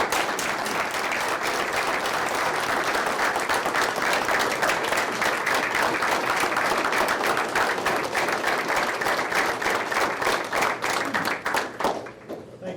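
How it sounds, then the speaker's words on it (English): Sustained applause from an audience at a Jackson-Madison County, Tennessee commission meeting, dense steady clapping for about twelve seconds before tapering off at the end. "I just want to give them a round of applause for your efforts."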